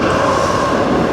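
A train rolling toward Seoul Station in South Korea, a steady close rumble and rushing wheel noise carrying through the carriage without a break, with no talking.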